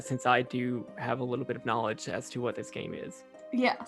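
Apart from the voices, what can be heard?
No everyday noises stand out.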